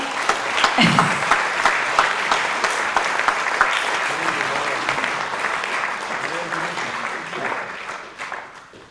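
Sustained applause from a jazz school concert audience in Ravne, loud and dense for several seconds, easing slightly toward the end with some speech mixed in underneath.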